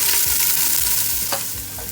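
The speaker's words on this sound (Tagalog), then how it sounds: "Igigisa muna natin yung bawang sa mantika. Tapos po isunod natin yung onion." Garlic and onion sautéing in cooking oil for chicken arroz caldo give off a loud, close, continuous sizzle. A few soft stirring clinks sound over the hiss, and no one talks.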